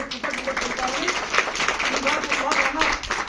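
Audience clapping at a CPI party village meeting, a dense, continuous patter of hands over the whole stretch, with a voice talking over it.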